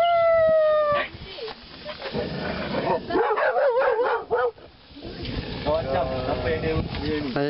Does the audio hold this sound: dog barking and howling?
yes